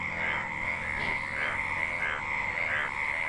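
Frogs croak after monsoon rains in a dense, continuous chorus of pulsing calls, loud and close, with no voices present.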